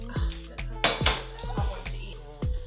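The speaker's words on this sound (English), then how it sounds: "I'm just going to stir the pasta into the sauce." Pasta stirred into a creamy Cajun sauce in a pan, with a utensil knocking and clinking against the metal in a quick, repeated rhythm, close and fairly loud, without talk.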